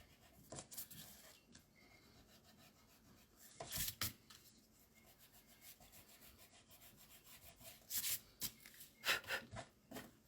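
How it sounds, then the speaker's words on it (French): An eraser rubs out pencil lines on a paper card, with soft, quiet scrubbing strokes that come in short bursts and grow busier near the end. "on peut venir gommer nos petits traits, puisqu'on n'en a plus besoin."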